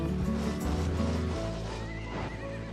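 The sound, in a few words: horse neighing in a video game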